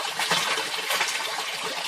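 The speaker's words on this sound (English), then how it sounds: "We're getting some more drips." Water in a hydroponics system drips and flows in a constant, close, splashing rush with no pauses and no voices.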